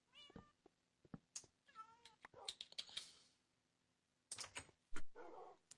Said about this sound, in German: Ich habe nur eine Katze da und das ist meine.